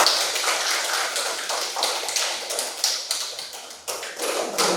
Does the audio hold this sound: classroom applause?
yes